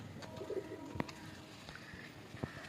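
Male pigeons of an old breeding line in a home loft coo softly, with a few low rolling coos and a couple of sharp flutters or taps against a quiet background.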